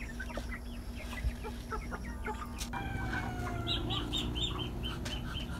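Backyard chickens and ducks cluck and chatter in scattered bursts at moderate distance, with a rooster-like call partway through over a steady low outdoor hum.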